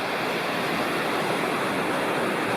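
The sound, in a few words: roaring creek near a campsite, Sycamore Creek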